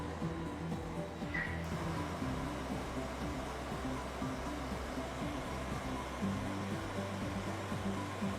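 A MultiCam CNC router moves along its X and Y axes to find its zero, giving a steady, loud mechanical whir and hum with a low drone that shifts pitch partway through; no one talks.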